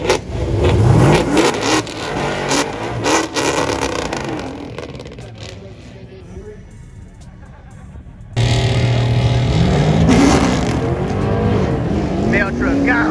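An LS-swapped mail truck launches down a drag strip, engine revving hard with rising pitch sweeps, fading into a quieter stretch before another loud engine roar and acceleration bursts in close, with people talking and shouting over it.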